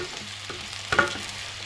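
Chanterelle mushrooms frying together with onion in a pan give a steady close sizzle, broken by a brief louder stir or clatter near the middle.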